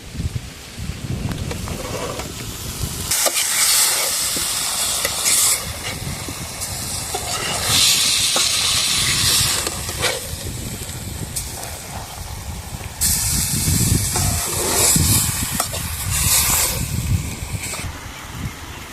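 Marinated chicken tipped into a pan of hot oil while cooking outdoors in a village, a loud hissing sizzle that surges and fades in long waves, alone without speech.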